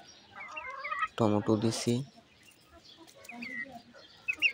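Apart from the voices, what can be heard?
desi chickens clucking while coming to eat tomatoes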